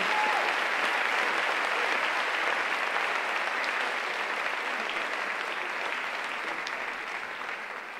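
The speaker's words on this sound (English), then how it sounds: "So can we give her a really round of applause, ladies and gentlemen?" At an International Women's Day lecture and panel discussion, a hall audience claps in a sustained, even round of applause that fades only slightly toward the end.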